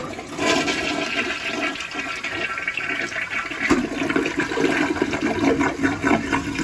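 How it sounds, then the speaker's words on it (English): A Mansfield Summit toilet with a Fluidmaster 400A fill valve flushes after a flapper adjustment, a loud, close rush of swirling water that keeps churning and gurgling steadily throughout without any talking. "here's the flush, a press and release flush after the modification"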